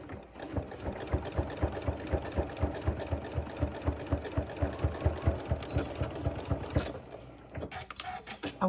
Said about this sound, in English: Then I'm just going to sew this down.